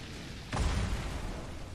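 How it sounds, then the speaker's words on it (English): A video game explosion: one sudden low boom bursts in midway, then a rumbling broadband roar rolls on after it, loud and close, with nobody speaking. "Destroy objects for explosions."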